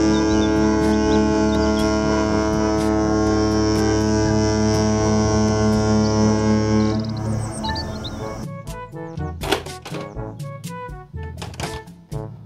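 A toy cruise ship sounds a sustained, loud, tonal horn-like drone for about seven seconds, fading into a short run of electronic chiming tones.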